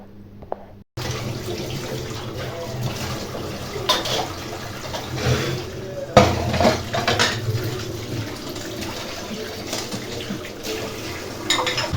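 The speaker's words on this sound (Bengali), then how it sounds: "আর যে এঁটো থালা বাটিগুলো ছিল ভাতটা বসিয়ে দেওয়ার পর, এগুলো সবই এখন আমি একটু ক্লিন করে নিচ্ছি" Dirty plates and bowls being washed in a kitchen sink: running tap water with steady splashing and frequent clinks of dishes and cutlery, continuous and close, with no talking.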